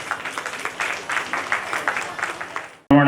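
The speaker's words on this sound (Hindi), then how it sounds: "जोरदार तालियों के बीच से श्री मजिस्ट्रेट सर" Audience clapping at a Sawan Mahotsava stage performance of dance and music, a steady patter of many hands over roughly three seconds, ending in a sudden louder burst.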